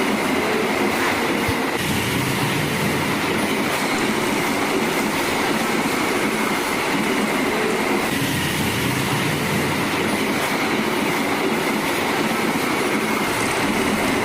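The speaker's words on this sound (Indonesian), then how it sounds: "Kereta berikutnya." Model train running along a diorama track, a continuous close rolling rumble with faint clicking of wheels over rail joints and a light metallic whine, steady and even for the whole stretch.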